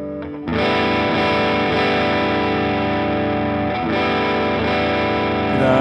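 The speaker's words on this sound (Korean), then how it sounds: "부스터 페달을 올리고 그 다음에 EQ 페달을 키고 그 다음에 컴프레서를 키고 드라이브를 키고" An electric guitar runs through booster, EQ, compressor and drive pedals, playing loud, sustained distorted chords that ring out alone with a slight change partway through, for a worship song.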